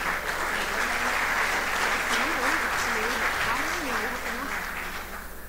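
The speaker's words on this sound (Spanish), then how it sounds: "los despedimos con un fuerte aplauso" Sustained applause from a crowd at a forum's opening session fills the room, steady and fairly loud, with a Spanish-speaking voice speaking over it.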